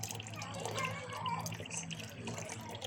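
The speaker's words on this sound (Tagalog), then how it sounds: "Ganyan lang yung tubig talaga, mahina na." A weak stream of tap water runs steadily and softly into a container, a continuous gentle trickling wash with no break, close by and faint.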